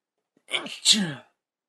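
A single short sneeze sounds close up, with a quick breath in before it and silence afterward.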